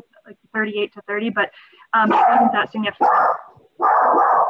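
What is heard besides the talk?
dog barking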